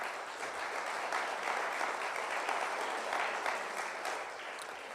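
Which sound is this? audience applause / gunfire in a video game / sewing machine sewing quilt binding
audience applause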